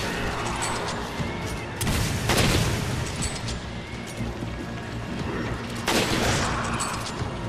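Gunfire in the video game Resident Evil 5, two heavy booming shot bursts a few seconds apart over a dense, continuous rumble of game noise.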